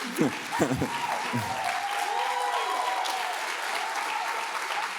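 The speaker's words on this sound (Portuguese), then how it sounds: "As palmas estão tímidas." Steady, modest audience applause fills the room at a talk, with a few voices heard briefly over the clapping at the start.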